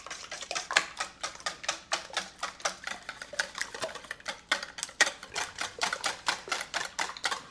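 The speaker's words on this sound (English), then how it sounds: "So I am cutting pre-cooked bacon" Knife chopping pre-cooked bacon on a board while camp cooking, a quick, steady series of sharp tapping cuts, close and fairly quiet, continuing throughout.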